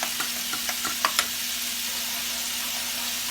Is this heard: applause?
no